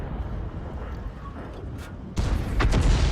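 An artillery shot from a 105 leFH18B2 howitzer in World of Tanks: one sharp, loud blast that breaks over a quieter low battlefield hum, with a rumbling tail after it.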